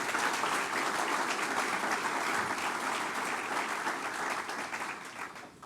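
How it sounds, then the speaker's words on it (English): A crowd at a college of business naming ceremony breaks into sustained applause, a dense and even roar of clapping that holds for several seconds before easing slightly at the end. "let's give a big round of applause for that as well"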